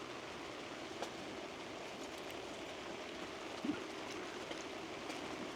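Pouring rain at a campsite, a steady faint hiss of falling water with a few soft taps and bumps nearby, no voices.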